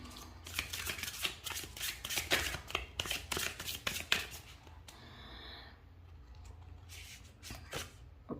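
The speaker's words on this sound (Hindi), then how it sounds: "तो हम लोग और भी कार्ड्स निकालते हैं" Tarot cards being shuffled and drawn, a rapid crisp run of riffling card flicks, then quieter rustles and a faint slide as cards are pulled, no talking.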